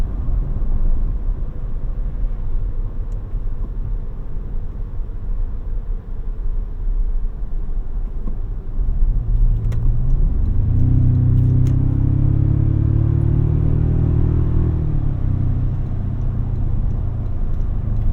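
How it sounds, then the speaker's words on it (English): A 2025 Toyota Tacoma TRD Pro with its TRD exhaust, heard from inside while driving: a steady low road rumble that swells into a louder, deeper exhaust drone for several seconds, then eases back. "That TRD exhaust sounds pretty good as well."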